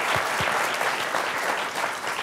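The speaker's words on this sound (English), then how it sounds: "Would you please give them a round of applause?" Audience applause for a panel at a scientific talk on DNA sequencing, thick and steady clapping across the room, with a couple of low thumps near the start.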